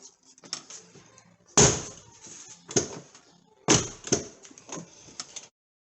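A Range Rover L322 car door is opened and shut a few times, with sharp latching thumps and creaks followed by quieter rattles, close up with no talking.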